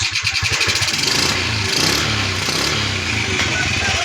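A Fury 125 motorcycle engine, just repaired after failing to start, idles close by with a steady, rumbling putter that holds at an even pace throughout.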